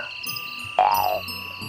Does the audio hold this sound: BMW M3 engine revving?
no